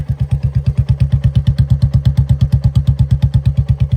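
A Royal Enfield Battalion Black 350cc motorcycle engine idles close by, its exhaust thumping in a steady, fast, even beat throughout.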